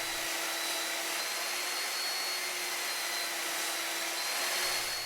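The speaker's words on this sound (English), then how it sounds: "I set to work with a belt sander to turn the support tip into a smooth curve" Belt sander shaping the curved tip of a wooden Nordic ski waxing support, a steady high whirring hiss that runs evenly throughout at close range, with no voices.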